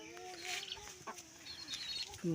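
A mother hen clucks softly and repeatedly near her chicks, with chirpy peeps and outdoor background noise, ending in a louder cluck.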